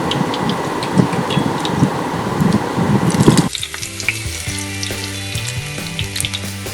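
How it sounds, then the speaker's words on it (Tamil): Urad dal medhu vadai batter, shaped with a hole in the middle, fries in hot oil with a loud, crackling sizzle that cuts off sharply midway, leaving quieter clinks and a low hum. "மெதுவாக தட்டி அதில் நடுவில் ஒரு ஓட்டை போட்டு சூடான எண்ணெயில் மெதுவாக பொரிச்சு எடுக்க போகிறோம்"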